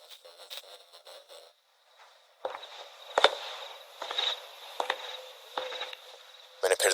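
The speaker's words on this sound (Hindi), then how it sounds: "तभी अंदर से कुछ खड़खड़ाहट की आवाज आई।" Scattered clinks and rattling clatters, some sharp and some faint, come in irregular bursts over a steady high hum, heard from a short distance.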